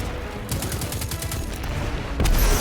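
Rapid in-game weapon fire from Destiny 2 crackles in a steady burst, then a heavier, louder blast from a grenade lands near the end, all fairly close with no talking.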